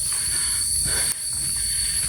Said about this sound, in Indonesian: kita mendengar suara tonggeret dan burung serta angin saja di sini